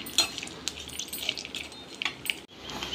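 Dry coconut roasting in a pan until golden, stirred with a utensil, a steady low crackle with light scattered scrapes and clinks close by, stopping briefly near the end.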